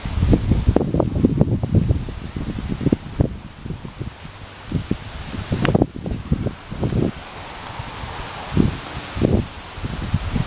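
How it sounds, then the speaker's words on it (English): Gusty wind on a golf course rustles leaves and brushes against the microphone in uneven bursts, loud at first and easing into softer, intermittent flurries. "It's so windy."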